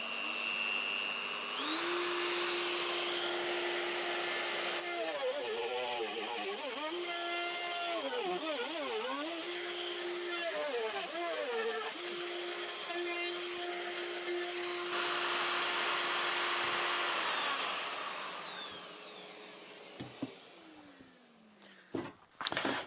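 A handheld router cuts a toe kick recess into a cabinet with a loud, sustained high whine. Its pitch wavers and dips as it bites through the wood, then it winds down and stops, followed by a few knocks.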